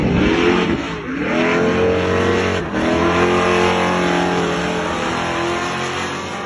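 Formula Drift Corvette race cars revving hard on a drift track at a festival, loud and close, with rising and falling engine pitch and brief dips between pulls.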